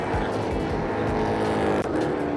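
A NASCAR race car roars past on a wet track during a rain-soaked NASCAR GP race at Most, Czech Republic, a loud, steady engine drone with a brief dip near the end.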